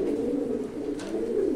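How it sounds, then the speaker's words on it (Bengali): Pigeons in a loft give a continuous low cooing drone, steady and close, with a faint rustle partway through. "আছে অনেক সুন্দর সুন্দর কবুতরই আছে"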